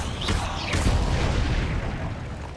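A Confringo fire spell blast in Hogwarts Legacy, heard as a deep, continuous booming rumble with bursts of crackle, loud and sustained throughout.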